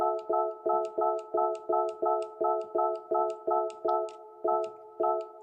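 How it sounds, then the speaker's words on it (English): A steady electronic beep repeats about a dozen times at a regular, fairly quick rhythm, each tone short and clear, alone with nothing else going on. "Sorry for the beeping."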